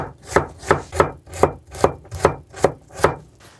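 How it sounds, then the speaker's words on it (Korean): Leftover cucumber being finely minced with a knife on a cutting board for small sandwiches: eight steady, evenly spaced chops, close and crisp, with no talking. "아까 오이 남겨뒀던 그 재료 잘게 썰어주세요. 다져주세요."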